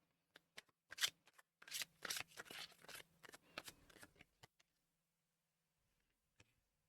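Tarot cards shuffled and handled, giving a quick run of crisp riffling flicks and papery slaps that cluster into short bursts, then stop, leaving a few faint taps near the end.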